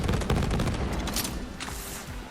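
Burst gunfire from a hostile clone in the shooter game Borderlands 3, loud, dense repeated shots with booming impacts filling the whole stretch amid chaotic combat noise.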